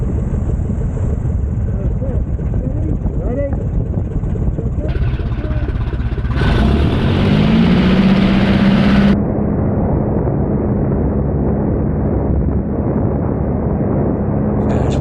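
A Tiger Moth biplane's engine drones steadily from the cockpit, then swells louder with rising pitch as the throttle opens for the takeoff roll down the runway, its continuous roar over wind and a voice talking.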